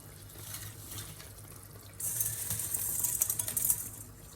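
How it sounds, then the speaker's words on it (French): Dry spaghetti, broken in half, slides into a pot of boiling water. A steady low bubbling is followed midway by a louder, bright hiss and rush of water that continues to the end. "L'eau est à ébullition, donc on va mettre à cuire les spaghettis."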